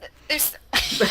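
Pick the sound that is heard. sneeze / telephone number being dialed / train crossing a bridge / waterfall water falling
sneeze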